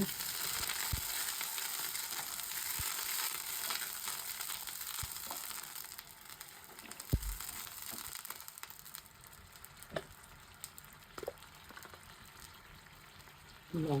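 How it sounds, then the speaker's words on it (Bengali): Onion frying in a pan for a rohu fish dish with fenugreek, a quiet, thin sizzle dotted with soft clicks and stirring knocks, fairly distant and low in level. "পেঁয়াজটাকে মিনিটে ভাজা হোক"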